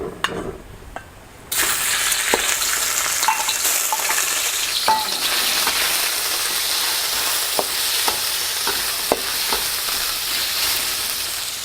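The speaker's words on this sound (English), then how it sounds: "Now you only want to stir fry the prawns for just a couple of minutes." Prawns hit an oiled wok and stir-fry: after a quieter moment a loud, steady sizzle takes over, with occasional sharp clinks and scrapes of the spatula throughout, close up.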